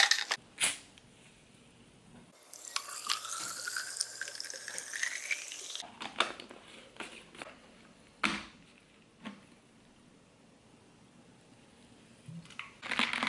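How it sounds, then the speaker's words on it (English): Sparkling water pours over ice in a glass for a grapefruit fizz, a rising gurgling fill lasting a few seconds, with ice clinks and handling knocks before and after. "I'm just gonna add some ice and then some sparkling water"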